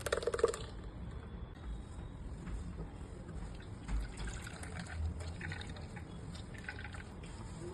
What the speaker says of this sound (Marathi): त्याच्यावर एक कपडा टाकलेला आहे सुती आणि त्याच्यातून आता मी हे गाळून घेत आहे